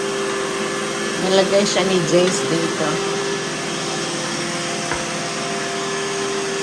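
An iRobot robot vacuum cleaner runs with a steady whine and whir at close range, brushing and bumping louder for a moment, while someone talks over it.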